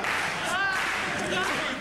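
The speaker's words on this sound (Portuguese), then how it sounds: "Vocês estão aplaudindo a cartela da mulher." An audience in a room claps steadily, a dense continuous applause with some faint voices and cheers mixed in, close and fairly loud throughout.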